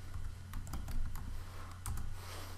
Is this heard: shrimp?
no